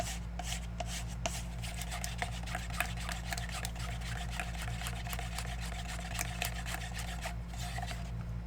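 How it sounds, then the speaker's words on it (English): Acrylic pour paint being stirred together with Floetrol, a steady run of soft scraping, clicking strokes over a constant low mechanical hum, close by with no talking. "So I'm going to mix that up first"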